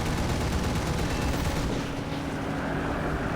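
Aircraft machine guns firing nonstop in the War Thunder video game, a dense, loud, continuous rattle over engine roar that eases slightly midway.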